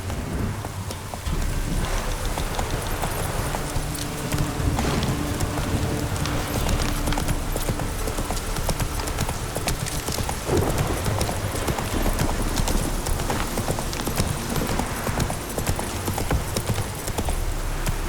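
Horse hooves gallop in a steady, dense clip-clop rhythm through the open world of Witcher 3, continuous and fairly loud for the whole stretch, with faint ambient rain or wind underneath.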